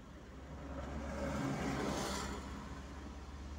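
A car approaches on a road, its engine and tire noise rising into a broad swell before fading slightly, moderately distant and steady, with no talk.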